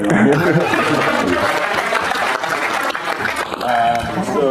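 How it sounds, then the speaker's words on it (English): Audience at a Bitcoin conference session applauds in a sustained, dense wash of clapping, fairly loud, with some chatter and a brief voice near the end. "You can clap for him"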